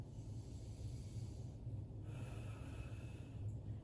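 Quiet, slow yoga breaths held in a standing pose, close and faint with a hissy nasal quality, a couple of soft inhale and exhale swells over low background noise.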